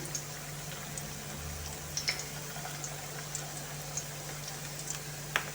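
Potato pancakes with a cheese filling fry in a pan, giving a soft, steady sizzle with scattered faint pops and crackles.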